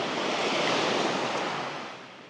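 Sea waves wash steadily onto the Suffolk shoreline beside broken groynes, a broad continuous roar of surf that is loud and close before easing slightly toward the end, with no voices.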